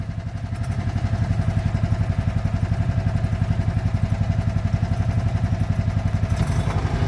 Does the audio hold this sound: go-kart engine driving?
yes